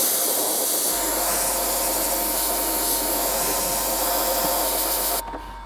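An airbrush at high pressure sprays dark blue paint onto an RC car body, a steady close hiss lasting several seconds before it cuts off, with no talking.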